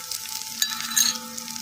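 Mint leaves fry in a tiny miniature pan with a soft, steady sizzle and a few light crackles, faint and close, with a faint steady hum beneath.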